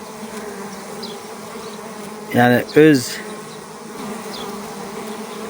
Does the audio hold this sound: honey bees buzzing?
yes